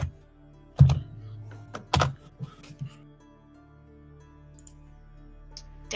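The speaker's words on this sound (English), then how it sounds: "There was typing." Scattered keystrokes on a computer keyboard, a few loud thunky presses followed by lighter, sparse taps in a quiet room.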